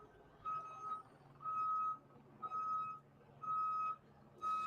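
A prison bus reverses at a protest during a curfew in Los Angeles, its reversing alarm sounding five steady beeps at an even pace, each about half a second long, over low engine rumble and street noise.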